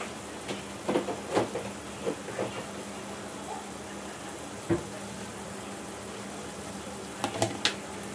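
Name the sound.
masala spice paste frying in oil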